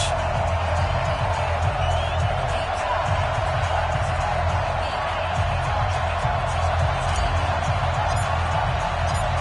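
Stadium crowd noise from a PS4 football video game before a Tennessee Titans vs Cincinnati Bengals matchup: a steady, loud wash of roaring fans with a low rumbling bed, continuous for the whole stretch without clear peaks.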